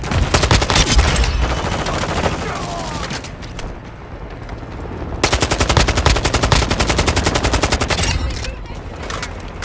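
Call of Duty: Modern Warfare 2 gunfire rattles in long, loud, rapid automatic bursts up close, pausing briefly midway before resuming, with a voice speaking over the shooting.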